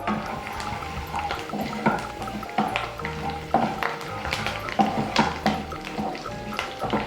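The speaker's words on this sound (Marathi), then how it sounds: "जिरा आणि कढीपत्ता आहे ना व्यवस्थित तडकून घेऊया फ्राय करून घेऊया त्याला" Cumin seeds and curry leaves sizzle as they temper in hot oil, a steady crackling hiss with scattered sharp pops and occasional stirring clinks, close and alone.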